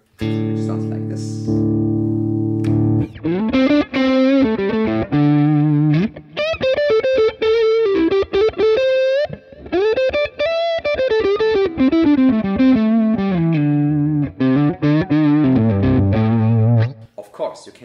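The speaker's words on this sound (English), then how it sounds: "This is a T808OD, it's a simulation of a tube screamer, an old one." Loud electric guitar through an Axe-FX II T808OD simulation of an old Tube Screamer overdrive, opening with held distorted chords before moving into a continuous melodic lead line with gritty, sustained notes.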